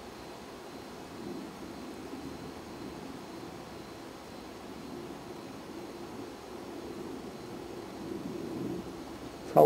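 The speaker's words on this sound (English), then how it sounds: "I don't see it, but I hear a plane." A faint, distant airplane drones overhead at night in an open park, a low steady rumble swelling gently over the ground noise, with some wind and rustle at the microphone and no talking.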